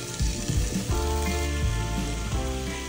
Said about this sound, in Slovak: Potom do panvice vložíme všetky 4 stehná, a to s kožou na dno panvice.